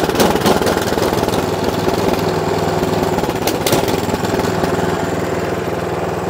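Toro snowblower engine running after starting without choke on a hot day, a loud, steady close-range small-engine drone with a rough mechanical rattle and no talking.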